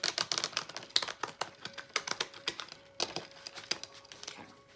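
Tarot cards being shuffled by hand, a dense run of crisp papery riffles and flicks in quick bursts with short gaps, close and fairly quiet, with no voices.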